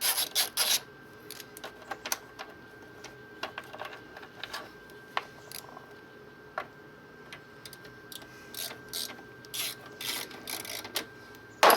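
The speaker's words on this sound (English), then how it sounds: "Got to pull these two fasteners out first." Fasteners pulled from a 2018 Honda Goldwing motorcycle with a ratchet: quiet irregular clicking and ticking in short bursts, close by, with no talking.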